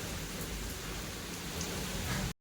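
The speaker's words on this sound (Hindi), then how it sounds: "जैसी बारिश हो रही है यार," Steady rain pouring down on a rainy day near a station, a dense continuous hiss that stays loud and even throughout, with no voices.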